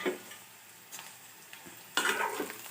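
Onions and seasoning spices frying in a covered pan, giving a soft, steady sizzle with light stirring clinks, and a louder crackling burst near the end.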